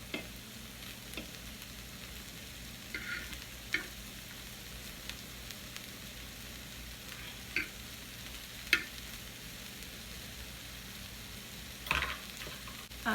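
A cheesy chicken quesadilla sizzles quietly in a pan, a faint steady frying hiss with a few sharp ticks and scrapes scattered throughout.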